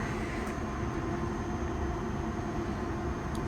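A London Underground Piccadilly line train rumbles steadily as it pulls away, a continuous low, close drone with no speech on top.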